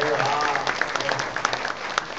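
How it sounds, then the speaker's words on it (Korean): A short burst of audience applause at a Korean book talk, a dense patter of claps sustained at even volume over its full length, with no voices over it. "박수 한번 보내주세요."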